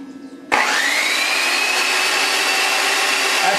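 A Black & Decker variable-speed car buffer switches on abruptly and runs at low speed, holding a steady, close, loud motor whir with no talk.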